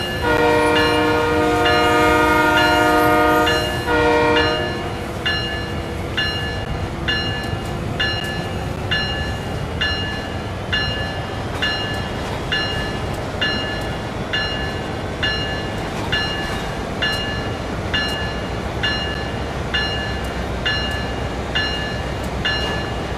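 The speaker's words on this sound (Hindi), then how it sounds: "देखिएगा, ये ट्रेन" Train running in Train Sim World 5, with a loud sustained multi-tone horn blast for the first four seconds, then a steady rolling rumble with regular rhythmic clicking of wheels over rail joints.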